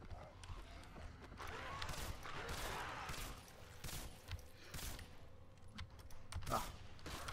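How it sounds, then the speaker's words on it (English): Gunfire in the video game Singularity, heard as a series of sharp shots and bursts over a busy background of game sound effects. "Yes, that was a panic gunshot."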